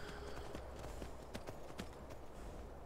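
Horse hooves clip-clop in Skyrim in a steady walking rhythm of crisp, fairly close hits over a low, even background, with no voices.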